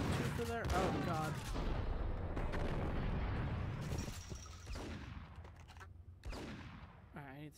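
Dense, loud gunfire bursts and shooting-game action from the video game Max Payne, with a brief voice near the start and end.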